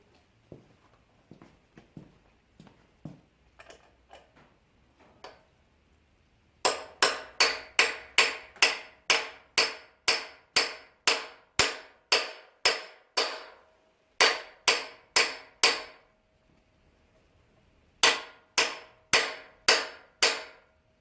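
Freeze plugs are hammered into a 1990 350 engine block through a socket: sharp, loud metallic strikes in quick rhythmic bursts of about a dozen blows each, separated by pauses, with a few lighter taps at the start.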